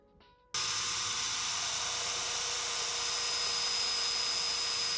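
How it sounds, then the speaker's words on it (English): A drill starts abruptly and runs as a steady high whine and hiss, making holes in a Vicrez VR2 rear diffuser for a Dodge Challenger. It is close and loud and holds constant for several seconds. "And now we're gonna drill a hole here, here, here,"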